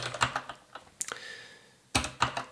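Quick bursts of keystrokes on a computer keyboard typing a commit message, close and quiet, in short clusters with a pause in the middle and no talking.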